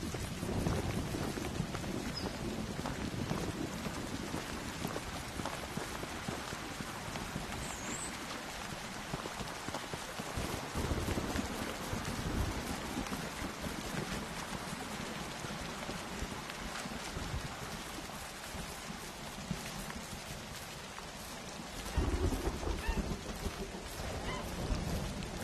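Rain in Medieval Dynasty falls as a dense, steady hiss of drops on surfaces, continuous for the whole stretch with slight swells and a low rumble underneath.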